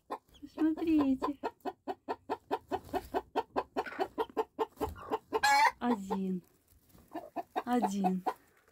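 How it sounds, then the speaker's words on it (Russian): A young chick peeps and clucks close by in a long run of quick, sharp calls, some stretching into higher drawn-out cheeps, with brief pauses between bursts. "Посмотрите, цыпленочек."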